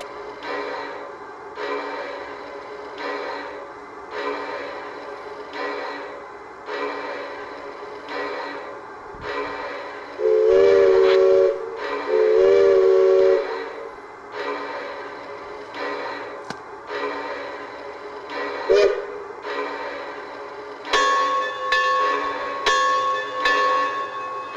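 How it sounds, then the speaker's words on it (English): A Bachmann Shay model garden train with onboard sound chuffs in a steady rhythmic pattern, with its bell ringing and a couple of brief steam whistle toots. The sound is moderately loud and has no talk over it. "Our Bachmann Shay included sound, so let's sit back, relax, and let's watch the Bachmann Shay in action."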